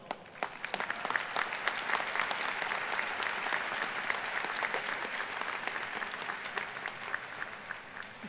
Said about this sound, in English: Will you please join me in a round of applause?